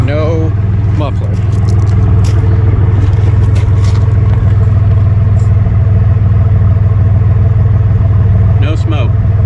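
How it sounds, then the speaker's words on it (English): A 1991 Ford F250 with the 300 six-cylinder engine idles through an exhaust that has a catalytic converter but no muffler, a steady low rumble close by with occasional clatter, and someone talking over it. "Oh yeah, I was going to show you the exhaust. Catalytic converter is present. No muffler."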